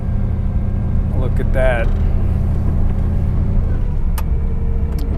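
A 1961 Mercedes-Benz 220Sb W111 with a four-speed manual column shifter idles in a low, steady engine drone while being shifted, joined by faint clicks and a short whine, with someone speaking briefly over it.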